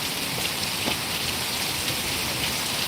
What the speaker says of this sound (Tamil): நல்ல மழைனா நல்ல மழை சரியான ஒரு மழை